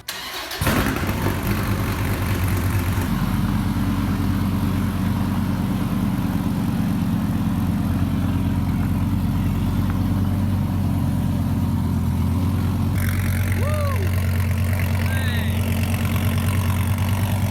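A 2014 Dodge Viper TA engine cranks and catches, then settles into a loud, steady, rumbling idle up close, with a brief higher rev near the end.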